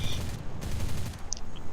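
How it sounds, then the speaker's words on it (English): Cannon on a Yak-3T fighter plane in War Thunder fires a rapid rattling burst of heavy shots over steady engine drone, fairly loud, with a couple of faint high pings afterward. "Oh, I love the boom of that cannon."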